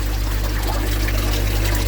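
Water from a flushed swimming pool pipe, running in a steady, close rush with a low hum underneath, continuous for two seconds and without voices.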